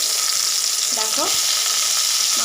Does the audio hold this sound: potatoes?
yes